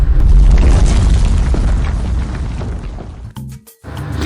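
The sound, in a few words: earthquake effect in the video game Yaad Treasures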